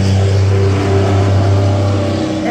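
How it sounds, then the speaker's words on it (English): A big, noisy truck rumbles past close by, its low engine drone steady and loud throughout with no talking over it. "Here comes a big noisy truck."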